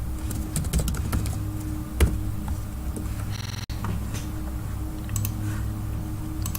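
Computer keyboard typing while entering settings for an OpenFOAM mesh, a steady run of soft close keystrokes with a low hum beneath and no talk.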